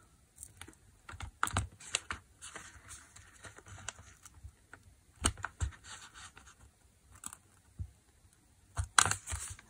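A pokey tool punching holes in paper for a handmade book dust jacket, sparse irregular close taps and scratchy clicks with pauses between, a tight cluster near the end.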